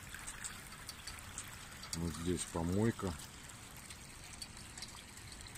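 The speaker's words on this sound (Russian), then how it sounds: "вот такая вот тонна дождевой воды сливается в провал на дороге" Rainwater drains into a sinkhole in a road, a faint, continuous trickle and gurgle in the background while someone speaks briefly partway through.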